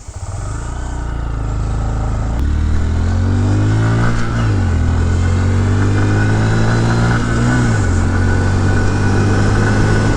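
A 2022 Honda Grom motorcycle with stock exhaust revs and pulls away, pitch climbing through gear changes as it accelerates, loud and close throughout.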